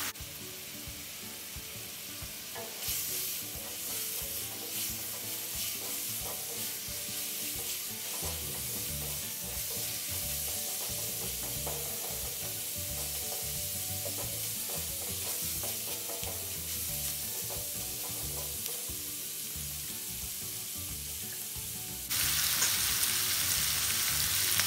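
Mustard greens (sawi) sizzle and simmer in a pan as their water cooks down, with steady frying hiss and occasional stirring scrapes, loud and close throughout.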